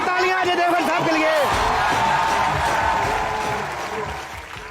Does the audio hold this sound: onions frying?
no